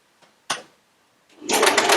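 A sewing machine stitches through quilt fabric after a couple of faint clicks and a short thump, then runs in a quick, loud burst of rapid stitching near the end.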